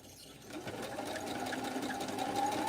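Sewing machine stitching fabric for scrappy heart mug rugs with a rag effect, a steady close mechanical whir that builds over a few seconds.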